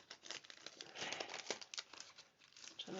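Thin packaging crinkles and tears softly as a metal floral stencil is worked free of its pack, close and quiet with irregular rustling.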